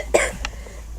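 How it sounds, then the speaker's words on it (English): A single short, sharp cough from a nearby person with a bad cough, followed by a softer second catch in the throat, then quiet. "Sorry, just have a real bad cough."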